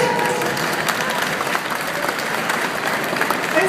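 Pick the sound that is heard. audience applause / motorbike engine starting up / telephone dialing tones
audience applause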